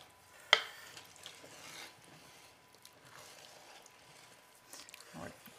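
A spoon stirs potatoes into a pot of broccoli cheddar soup, with a sharp scrape or clink at the start followed by faint, soft stirring and a quiet simmer, close up.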